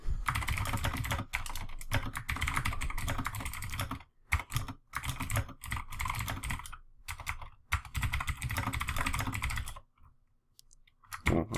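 Steady keyboard typing while code for a PHP character-limit string is entered, a dense run of close, quick keystroke clicks broken by a few short pauses and a quieter stretch near the end, with no talking.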